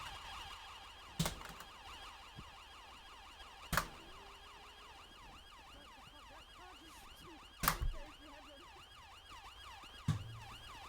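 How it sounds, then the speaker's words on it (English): Police car siren in GTA V, a continuous wailing up-and-down tone cycling steadily, with several sharp loud knocks or bangs breaking in at intervals. "Let's have a siren check as well, please."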